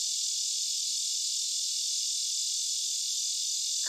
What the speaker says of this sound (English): This is one too that is an early morning cicada.